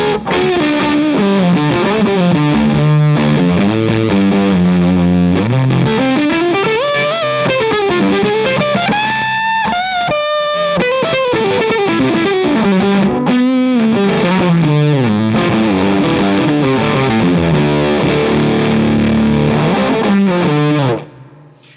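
An electric guitar through a Fuzz Face-style fuzz pedal set to a spitty bias, playing a loud, sustained melodic line with sliding bends and a gated, sputtering edge until it cuts off at the end.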